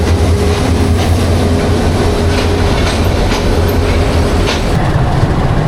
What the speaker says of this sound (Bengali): ছেড়ে দিল Agnibina express Mymensingh railway station থেকে